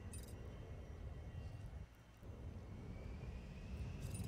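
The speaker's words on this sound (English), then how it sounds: "All right, here's an airplane." A passenger airliner, an A320, arrives in the SimAirport airport management game as a steady, even engine roar that holds at moderate loudness with a brief dip midway, without any talking.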